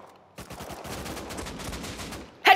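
Rapid MP5 submachine gun fire in a video game, a loud close burst of quick shots lasting about two seconds before a sharp sound cuts in at the end.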